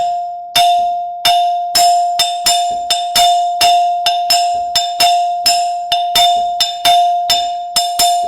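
Clear metallic bell-like Latin percussion strikes play a repeating three-note syncopated tresillo rhythm, loud and close, looping steadily without any voices.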